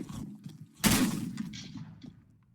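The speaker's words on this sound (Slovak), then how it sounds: "Teraz niekto strelil." A single sharp gunshot rings out in the Minecraft video game. The loud burst fades quickly into low background noise, with no one talking.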